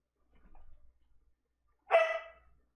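A dog gives a single sharp bark, near and fairly loud, after a short soft muffled sound, heard indoors in a quiet room during a board game session.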